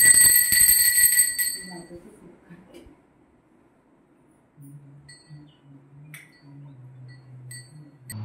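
Small hand bell rung during a Ganpati puja, a bright metallic ringing near the start that fades, followed by soft voices.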